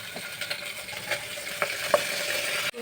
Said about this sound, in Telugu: ఆయిల్ కాగాక పోపు పెట్టుకోవాలి మనము. ఎండుమిర్చి, ఇప్పుడు ఇందాక మనం కట్ చేసుకున్నవన్నీ అందులో వేసేసుకుంటామండి.